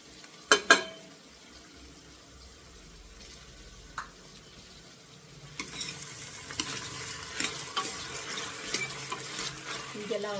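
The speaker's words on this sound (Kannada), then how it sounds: "ಇವಾಗ ಹಸಿದು ಇತ್ತು ಬೇಳೆ ಅದನ್ನು ಹಾಕ್ಕೊಳ್ಳೋಣ. ಅದು ಚೆನ್ನಾಗಿ ಹಸಿ ವಾಸನೆ ಹೋಗೋವರೆಗೂ ಹುರ್ಕೊಳ್ಳೋಣ." Lentils and capsicum being dry-roasted in a pan for padavalakai sambar, a faint sizzle with stirring and scraping that grows busier partway through, plus a few sharp clinks of utensils.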